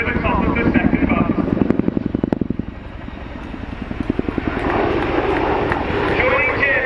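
Twin-engine Chinook helicopter performing an airshow display at RAF Cosford, its heavy rotor beat thudding in a rapid rhythmic pulse with a loud engine roar that swells and fades as it passes, with commentary over the top.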